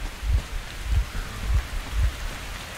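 Steady rain from a thunderstorm in the post-apocalyptic video game Metro Exodus hisses without pause, with soft low thumps repeating at a slow, even pace beneath it and no voices.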